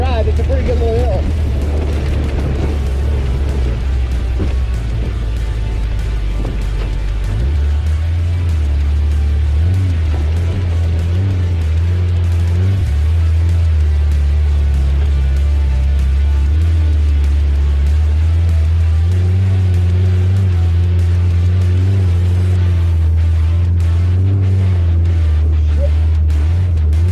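A vehicle engine labors up a fairly steep little hill in two-wheel drive, a loud steady rumble that deepens and strains partway through, with wind buffeting and a voice talking over it.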